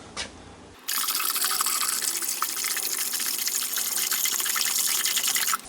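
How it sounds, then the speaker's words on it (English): RV antifreeze gushes steadily into toilet water lines, a loud continuous rushing liquid fill that starts abruptly after a brief quiet moment and stops just before the end. "I can take my RV antifreeze and use that to fill up the lines in the toilet"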